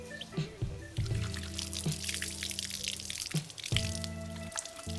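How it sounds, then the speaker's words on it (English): Water runs and trickles from a tap as hands are washed before slaughtering a chicken, splashing unevenly with short interruptions, close and fairly quiet. "Running water is always the best water to wash your hands."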